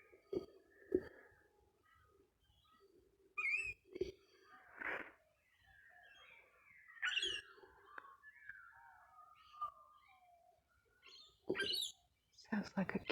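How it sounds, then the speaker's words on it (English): A small bird calling in the trees on an early Australian morning: faint, scattered high chirps and twittering phrases, with a few soft rustles and clicks in between. "Sounds like a cute little bird above me"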